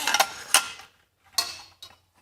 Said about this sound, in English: you're going to unclip the carabiner at the top,